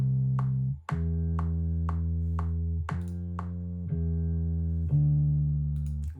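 A solo bass line is transposed down an octave, sounding as a series of low, sustained synth notes with a plucked attack, stepping through the pitches in an even rhythm, clean and alone.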